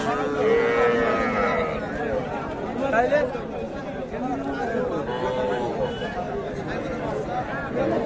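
Young calves and small bulls at a crowded cattle market low and moo repeatedly nearby, while people talk and chatter over the noise throughout.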